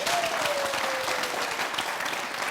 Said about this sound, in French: applaudissez pour notre docteur